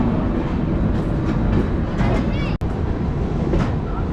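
The Howrah Amritsar Mail, hauled by a Tughlakabad-shed WAP-7 electric locomotive, rumbles along with a continuous broadband roar and faint rail clatter. A voice talks over it, and a brief dropout cuts the sound midway.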